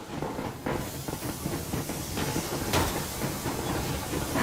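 The steam locomotive Aurora from Metro Exodus runs steadily, a continuous hiss and rumble with rhythmic rail clatter and a sharper burst of steam partway through, heard alone at moderate volume.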